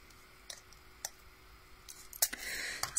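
Craft paper is cut in half with scissors, giving a few soft separate snips and then a brighter burst of cutting and rustling near the end, all close and quiet with no talking.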